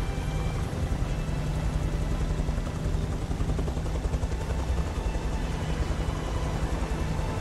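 A helicopter in the video game Beyond: Two Souls thrums steadily and loudly throughout, with a continuous rotor and engine drone and no voices over it.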